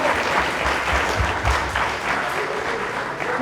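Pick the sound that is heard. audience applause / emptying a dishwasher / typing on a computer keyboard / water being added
audience applause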